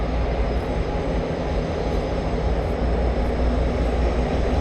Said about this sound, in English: Now the train behind me, the 4421s, it's not headed for Broadmeadow.